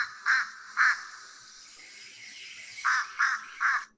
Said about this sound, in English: So the fish crow is got a lot more nasal sound to it.